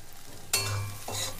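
Powdered turmeric hits hot oil in a pan for a Bengali cabbage dish and bursts into a sudden, close sizzle after a quiet moment. The frying holds steady for about a second, with no voices.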